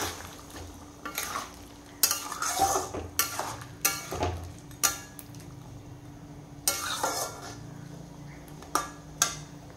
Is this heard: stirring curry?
yes